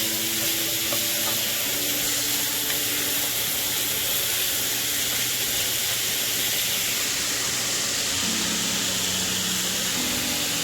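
Onions for clam chowder sautéing in a pot on medium heat, a dense, even hiss and sizzle that holds steady throughout, close and fairly loud, with faint stirring and no speech.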